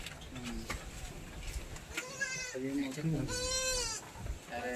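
A goat bleats several times with wavering, quavering cries, fairly close, amid background noise and some nearby voices at a village fair.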